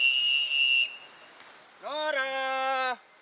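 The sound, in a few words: search teams blowing whistles in the jungle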